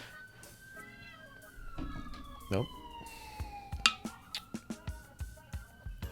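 An ambulance siren wails past in long falling and rising tones that slide downward, heard faintly from a distance under nearby clicks and taps, while a person briefly speaks.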